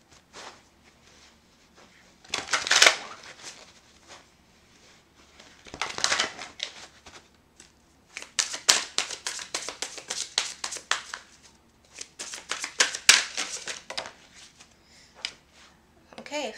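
A deck of tarot cards is shuffled in several brisk, crackling bursts, each a flurry of quick riffling slaps separated by short pauses, close to the microphone.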